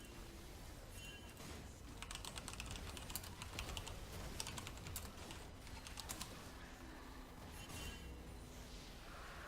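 Computer keyboard typing in rapid bursts of clicky keystrokes, close and steady throughout, with pauses between flurries and no talking.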